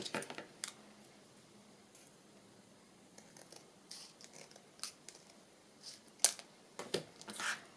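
Black scissors cutting patterned paper for a craft folio, several sharp snips spaced irregularly and growing busier toward the end, close and fairly quiet over a hushed indoor room.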